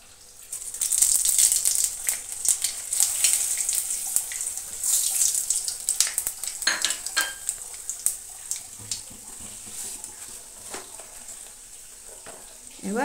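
Halved dry red chilli and a halved bay leaf crackle and sizzle in hot mustard oil in a heated kadai, a steady bright hiss running through with small spitting pops, close and fairly loud, no talking over it.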